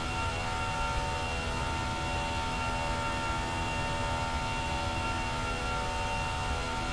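Simulated Airbus A321 with IAE engines in X-Plane 11 gives off a steady, broad jet roar with a faint whine, constant and unbroken throughout, no voices present.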